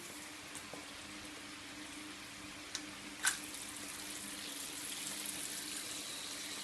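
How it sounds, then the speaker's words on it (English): A quiet, steady trickle of coolant water runs from a Subaru EJ engine's drain hose into a bucket, with a couple of faint knocks and a brief clatter partway through. "we're going to see the water come out of the drain hose here in the bucket"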